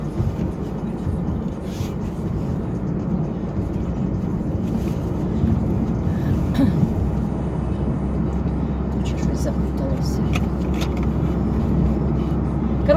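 A car interior while driving, with a steady low engine and road rumble running throughout. Someone talks over it at moderate level.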